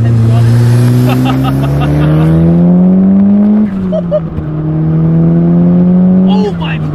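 Turbocharged Ford Laser TX3 AWD hot hatch with an aftermarket VF10 turbo, Microtech ECU and cams, revving hard while driving; loud, close engine note climbs steadily, drops briefly mid-shift, then climbs again.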